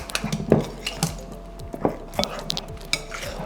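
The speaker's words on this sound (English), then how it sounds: "I'm going to just mix this so that everything is well incorporated into the flour." Flour, salt and baking powder being mixed in a bowl for a Trini black cake, with a series of scraping strokes and light knocks against the bowl in an irregular rhythm, close and clear.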